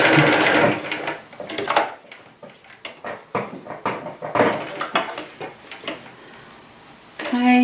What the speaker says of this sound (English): I'm using the side of the foot as my guide on my stitching line.